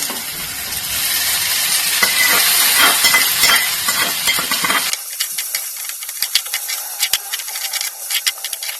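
Okra frying in a pan for Bendekai Palya: a loud, steady sizzle and hiss fills the first half, then settles into a quieter crackle with scattered pops.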